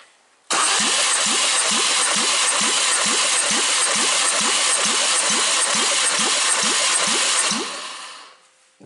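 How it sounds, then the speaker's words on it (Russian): A 2005 Ford Mondeo's 1.8-litre engine cranks on the starter during a compression test for about seven seconds with a steady rhythmic chug, loud and close, never catching, then winds down. "Замер компрессии двигателя автомобиля Ford Mondeo 2005 года выпуска."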